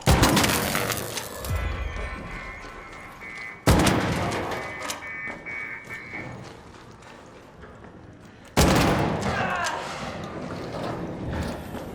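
Gunfire in the video game ARC Raiders: three loud, sharp shots, each trailing a long ringing decay and rumble across several seconds, with a faint game hum between them.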